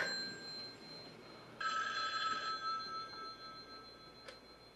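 A telephone rings in the 1978 horror film Halloween, a bright ringing burst lasting under a second, then a short faint ring later, over quiet room tone.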